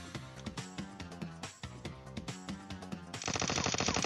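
Rapid automatic gunfire from the PUBG Mobile battle-royale game, loud and dense, with bursts of shots ending in a sustained, heavier volley with no talking.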